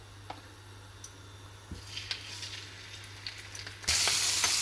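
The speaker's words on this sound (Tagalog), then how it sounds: "magpiprito po ako ng isda" Fish frying in hot oil, faint scattered sizzles and pops that swell suddenly into a loud, continuous hiss near the end.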